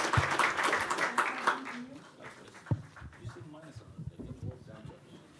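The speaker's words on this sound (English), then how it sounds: "Please, a round of applause to our speakers then." Audience applause at a meeting on coal regions in transition in the Western Balkans, a burst of many hands clapping for about two seconds that fades out, followed by scattered noises and talk.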